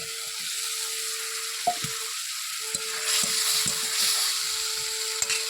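Potatoes sizzle steadily in hot oil in a frying pan, a continuous crackling hiss broken by a few sharp clinks and scrapes of a utensil, with a faint steady tone running underneath.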